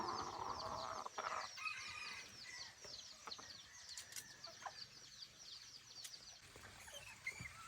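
Chickens cluck steadily with occasional sharper calls and a brief wing flutter, close and fairly loud, with no voices present.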